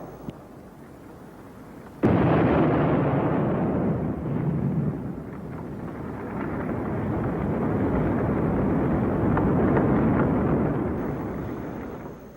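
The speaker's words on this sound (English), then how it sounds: "We had those wonderful houses in St. Louis, the Pruitt-Igoe houses. We had to blow them up." Demolition blast at the Pruitt-Igoe public housing towers in St. Louis: a sudden loud explosion erupts, then a long, broad rumble of collapsing buildings rolls on for about ten seconds before slowly easing off.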